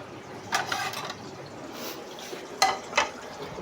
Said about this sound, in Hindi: सबसे पहले मैंने कहा अंडा मैं फ्राई करके रख लूँ